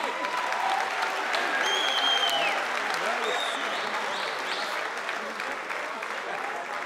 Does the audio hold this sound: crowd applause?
yes